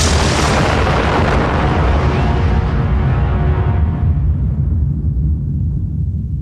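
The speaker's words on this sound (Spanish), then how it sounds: "El 16 de julio, la primera explosión atómica tiene lugar en el desierto de Nuevo México." The first atomic bomb test explosion in the New Mexico desert: a sustained, loud, rumbling roar that fills the clip and slowly darkens as its high hiss fades away, with no voices.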